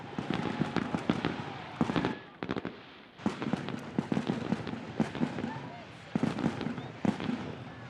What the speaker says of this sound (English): we got the fireworks going off